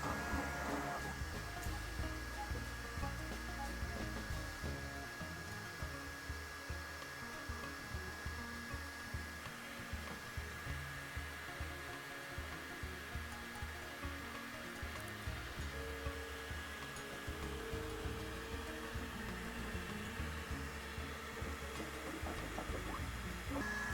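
Bambu Lab X1 Carbon 3D printer running its calibration routine, a faint continuous mechanical whir with soft rhythmic ticking and motor movement throughout, no voices.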